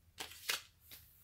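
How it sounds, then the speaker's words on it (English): A deck of tarot cards being shuffled in a few quick riffled bursts, close and soft, with no voices. "All right, last shuffle."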